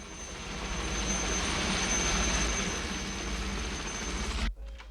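A helicopter in an action film scene gives a loud, steady engine and rotor roar that holds, then cuts off abruptly near the end.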